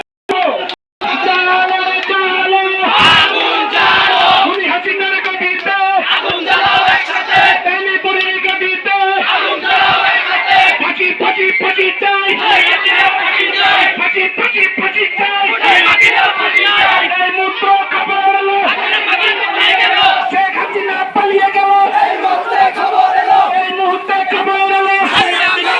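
Loud street crowd chanting in rhythmic unison at a victory procession in Bangladesh, dense overlapping voices and shouted slogans sustained throughout with steady intensity, no pauses.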